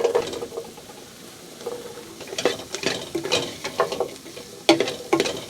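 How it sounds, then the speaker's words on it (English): Flour, carrots and potatoes stirred in a pot for salmon chowder, giving irregular scraping and soft clattering strokes of a utensil against the pot, close and moderately loud with no talking. "Stir that all up with the flour. Now we'll add the carrots and potatoes."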